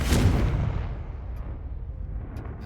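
Confringo spell blast from Hogwarts Legacy, a single loud booming burst at the start that decays into a low rumbling tail over a couple of seconds.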